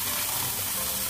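Fake meatballs cooking in a pot with pasta, giving a steady close sizzling hiss with a soft bubbling texture throughout.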